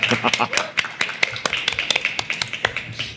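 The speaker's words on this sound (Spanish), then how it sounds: "un aplauso para los We Are 4 que nos prestaron su casa" A small group of people claps for their hosts in a home setting, with sparse, uneven individual hand claps rather than a full roar, some sharp and close, over a murmur of voices.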